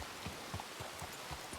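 Soft, steady rain patters faintly in the open, with a regular low thudding like slow hoofbeats of a horse plodding through it; no talking.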